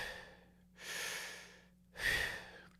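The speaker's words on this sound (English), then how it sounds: "So as you're breathing in," Two deliberate inhalations taken before trumpet playing, each a breathy airy rush lasting about a second with a pause between, close and fairly quiet over a faint steady hum.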